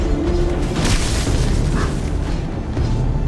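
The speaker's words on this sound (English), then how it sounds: "Tower has been destroyed." A tower is destroyed in a video game, giving a loud, dense boom that fills the whole short stretch, rumbling heavily with a brief brighter crackle near the middle.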